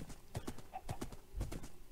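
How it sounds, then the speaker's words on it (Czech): Horse hooves clip-clop in Minecraft, several sharp steps in an uneven rhythm, close and fairly loud, with a brief whinny partway through. "Paráda, máme koně."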